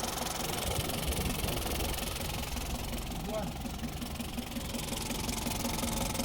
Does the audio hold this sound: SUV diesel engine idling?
yes